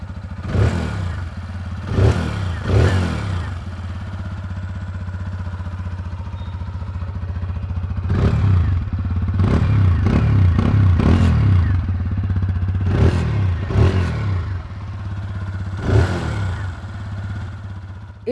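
A TVS Apache RTR 160 2V motorcycle idles close by with a steady low thrum, broken by about eight quick throttle blips that rise sharply and fall away, some singly and some in rapid clusters.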